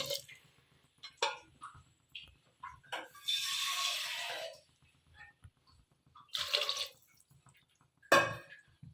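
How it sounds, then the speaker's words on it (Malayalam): Water is poured in bursts into a pot, with a longer gush in the middle, splashing and dripping between pours and some scattered clinks. "ഇനി കുറച്ച് വെള്ളം ഒഴിച്ചിട്ട് ഇത് വേവിക്കാൻ വെക്കുക."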